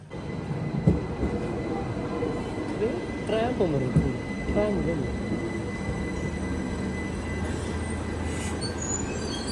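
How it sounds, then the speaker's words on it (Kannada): A regional passenger train from Bern to Solothurn rumbles steadily with rolling wheel noise and a few squealing rail tones, loud and continuous, with voices faint beneath it. "ಈ ಟ್ರೈನ್ ಬಂದುಬಿಟ್ಟು ರೀಜ್ನಲ್ ಬರ್ನ್ ಟು ಸೊಲೋತೂನ್ ಟ್ರೈನು"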